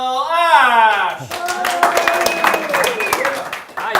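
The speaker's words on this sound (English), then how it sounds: "treat this guy with a huge, warm round of applause" Live audience applause for a speaker being introduced at a Hyper HMO course, dense clapping that builds under cheering and voices, with speech-like tones over the top throughout.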